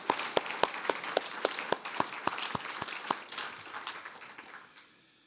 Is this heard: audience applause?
yes